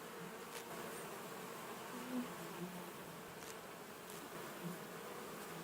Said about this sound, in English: It's nice to see the bees in the garden like that.